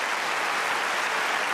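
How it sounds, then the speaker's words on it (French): Steady applause from a theatre audience at a comedy impressions show at the Casino de Paris, a dense even wash of clapping with no pauses and no voices on top. "On peut applaudir en tous les cas très très fort."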